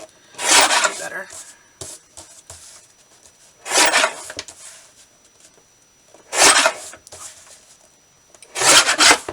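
Paper for scrapbook journal ephemera being trimmed, four separate rasping cutting strokes spaced a few seconds apart, close and fairly quiet, with near silence between them.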